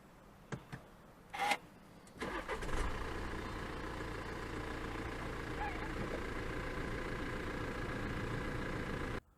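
A 2018 BMW X2 xDrive25d M Sport X diesel is started by push button: a few clicks, then the engine catches and settles into a steady, even idle heard from inside the cabin.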